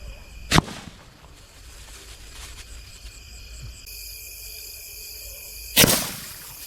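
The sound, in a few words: rocket sky shot firecracker bursting low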